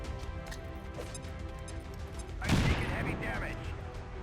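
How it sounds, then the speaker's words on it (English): A grenade blast in XCOM 2 with a Star Wars mod erupts midway as a loud, broad burst, then trails off into rumbling debris. It rises over steady game background sound. "we're gonna have to blow the grenade here"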